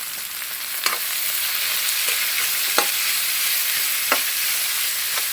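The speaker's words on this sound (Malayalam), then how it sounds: "സവോള 2 എണ്ണം മീഡിയം സൈസ് ചെറുതായിട്ട് അരിഞ്ഞതാണ്, അത് ഇട്ട് കൊടുത്തു. ഇനി നമുക്ക് നന്നായിട്ട് ഇളക്കി കൊടുക്കാം." Two medium onions, finely chopped, frying in a pan for Kerala-style beef curry, with a constant loud sizzle broken by a few sharp scrapes of a spoon stirring.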